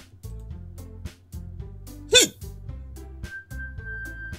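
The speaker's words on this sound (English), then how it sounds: "do you have the hiccups?" A Doki Doki Literature Club game character hiccups once, a sharp squeaky catch in the middle of gentle, looping background music.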